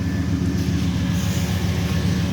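The LT1 V8 of a 1995 Chevy Silverado idles steadily nearby, a low, even rumble with no talking over it.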